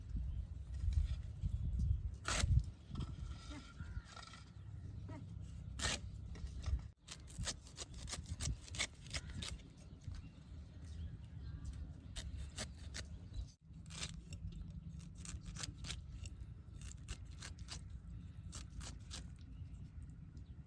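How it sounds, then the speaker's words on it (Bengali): A knife cuts through a peeled, soft, ripe pineapple in thin slices, giving repeated close, soft cutting and scraping strokes at an irregular pace with brief pauses. "আনারসটা ছুলিয়ে এখন কাইটা নেব।"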